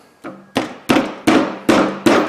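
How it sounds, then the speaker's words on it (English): A mid-sized tapping hammer strikes the fingers of a front wheel bearing part on a Dodge Ram 2500/3500, six sharp metallic taps in a steady rhythm, close and fairly loud with no talking. "So I take these and, like I say, just tap the fingers back down on it."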